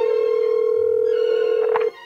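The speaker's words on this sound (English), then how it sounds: "Minnie picked up the phone right away." A telephone rings with a steady, sustained electronic tone, loud and unbroken for nearly two seconds, in a 1985 Fisher-Price Mickey Mouse storybook recording, ending abruptly as the line is picked up.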